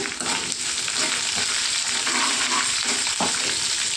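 Urad dal and dried red chillies crackle in hot oil for a yam chutney, a loud close dense sizzle with stirring scrapes running continuously throughout, no voices.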